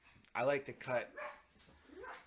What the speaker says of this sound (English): please excuse my dog for barking